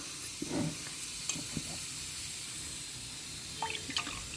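Ground paste for palak bajji saaru goes into a pan, giving soft sizzling and stirring with a few wet splashes and clinks, faint and close, with no talking.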